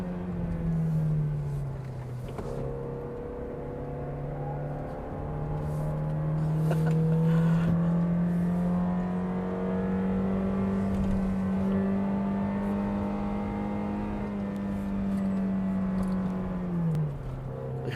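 A Toyota Innova seven-seater MPV climbing the Genting road, its engine droning steadily under load with a rising pitch as it pulls, then dropping sharply near the end as the gear shifts up; no talking.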